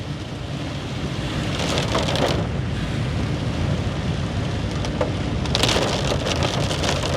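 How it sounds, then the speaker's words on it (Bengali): Heavy rain falls steadily outside on a road trip between Shimla and Narkanda, a dense, even hiss of drops on surfaces lasting throughout with no one speaking. "খুব জোরে জোরে বৃষ্টি পড়ছে"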